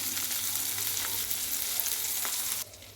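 Dried fish frying in oil in a pan, a close, dense bright sizzle with faint crackles, steady until it cuts off abruptly near the end.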